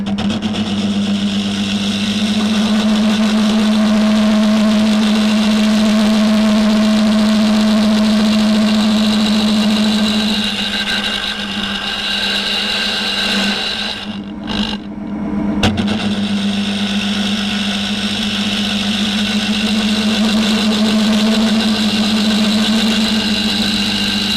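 A wood lathe turning segmented work as a scraper-like cutter works it, giving a loud, continuous machine drone with a steady hum that dips briefly midway before resuming, and no voices.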